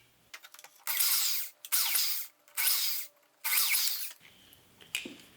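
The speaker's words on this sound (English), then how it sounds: "Since I'm not actually drilling all the way through" A power drill whirs partway into wood while building a table saw tapering jig, four bursts of about a second each, separated by short pauses, close and loud.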